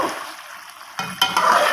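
Chicken karahi frying in oil, a close bright sizzle that swells after a quieter start, punctuated by a couple of short stirring scrapes.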